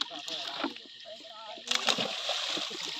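Pangasius fish seed are tipped from a bucket into pond water, giving a sudden close splash and slosh amid a low outdoor background with faint voices.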